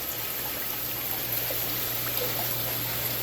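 Water streams steadily through an aeroponic tower garden with its pump motor running on high, a continuous close trickling wash over a low constant hum, with no talk.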